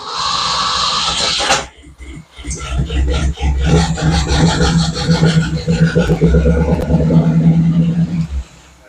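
A car engine that has been sitting since 2018 cranks on a start attempt, a loud, steady, rhythmic churning that runs for about five seconds after a brief burst and pause, then cuts off.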